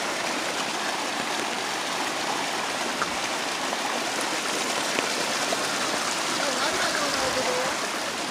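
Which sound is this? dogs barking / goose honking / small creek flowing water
small creek flowing water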